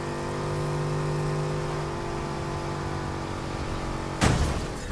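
A car engine in a racing video game drones steadily with a sustained tonal hum that slowly shifts pitch, then a sharp loud thud or impact bursts in near the end.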